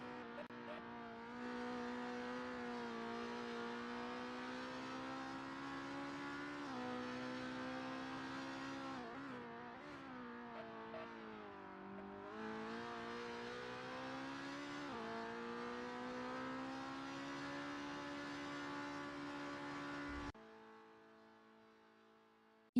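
A touring car on its out lap in the SIMSPEED Super TC sim race gives a steady, moderately loud engine drone for about twenty seconds, with small pitch changes, then cuts off abruptly and fades.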